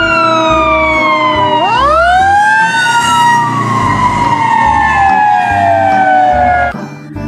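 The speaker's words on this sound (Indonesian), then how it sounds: "Yang ini ada mobil pemadam kebakaran." Toy fire truck siren wails loud and close, sweeping up sharply then gliding slowly down in a continuous electronic tone for several seconds before cutting off near the end.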